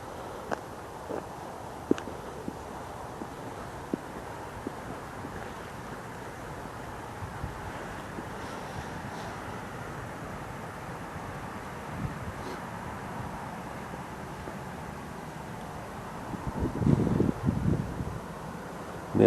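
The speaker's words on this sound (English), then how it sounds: "I hope this wind isn't too bad on the audio" Gusty wind buffets a handheld microphone at night in a cemetery, a steady low rumble throughout with a louder burst of mic buffeting near the end.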